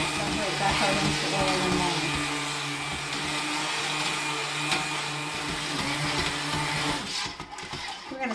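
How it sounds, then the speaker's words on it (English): A hand blender runs steadily while mixing oils and lye for handmade natural soap, a continuous whirring motor drone with shifting tone, up close and fairly loud, then stuttering and cutting in and out near the end. "we use a hand blender because this speeds the process up considerably"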